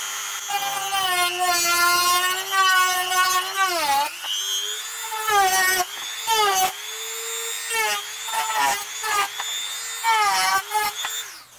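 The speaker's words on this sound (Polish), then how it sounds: "No i co, zaczynamy wiercić." A rotary tool drills into a plastic Ferrero box with a high, whining buzz. The pitch rises and falls as the bit bites and eases off, with short pauses between passes, close and loud.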